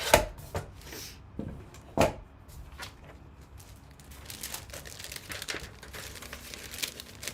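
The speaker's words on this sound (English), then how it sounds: "I will cut this vellum" Vellum paper being cut for a handmade card, heard as a series of close crinkling, scraping and snipping sounds with a few sharper knocks, then softer rustling toward the end.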